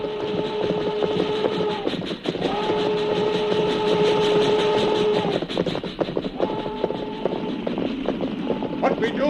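A slow-rolling freight train in a radio drama sound effect, with steady rumbling wheels and clacking, and a sustained multi-tone train whistle blowing in long blasts over it, loud and close.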